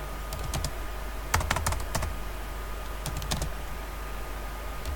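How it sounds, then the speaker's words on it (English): Quick bursts of keystrokes on a computer keyboard as a command is typed, clustered taps with short pauses over a low steady hum. "So I am going to write error dump -ng"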